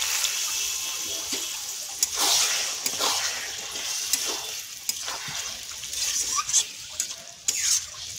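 Eggplant and potato fry with Chela fish in a hot pan, a steady sizzle broken by repeated scraping stirs of the spoon, close and clear.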